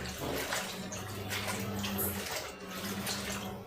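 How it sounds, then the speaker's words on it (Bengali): Malabar spinach (pui shak) is sloshed and rinsed in water, giving uneven splashes and trickling swishes close by that rise and fall over a few seconds. "এখন আমি পুঁই শাকগুলি ধুয়ে নিব।"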